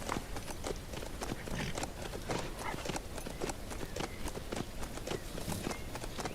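Steady, rapid clip-clop of horse hooves trotting along, close and continuous, with a busy game-like ambience underneath and no speech, in the video game HumanitZ.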